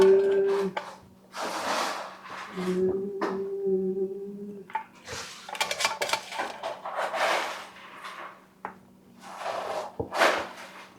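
Carrots being packed into clean glass canning jars, with a run of close clinks, taps and rubbing knocks against the glass at an irregular pace, while a few tonal hums and other kitchen sounds come through in the background.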